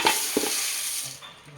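Puffed rice (mandakki) snack mixture being stirred with lemon juice, two quick rustling scrapes near the start, then a soft hiss that fades, close up and with no talk.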